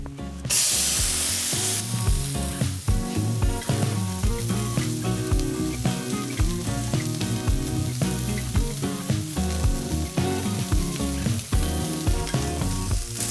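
Two steaks, one oiled with olive oil and one bare, sear in a cast iron pan with a loud, steady sizzle and crackle that swells in waves, close up and with no voices.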